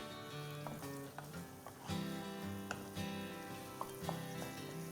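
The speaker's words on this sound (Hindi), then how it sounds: "इसके अंदर मैं डालूंगा बोनलेस चिकन और इससे हम भूनेंगे करीबन 3 से 4 मिनट" Boneless chicken pieces and onions fry in a pan for cream of chicken soup, giving a close, steady sizzle broken by scraping stirs and light clatters, with no talking.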